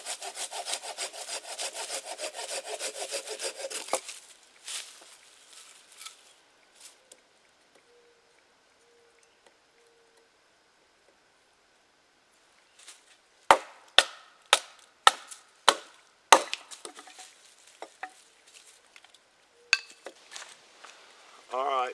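Tulip poplar wood is sawn with rapid rhythmic rasping strokes, then after a quiet pause a baton knocks on it in a series of sharp, close, evenly spaced cracks.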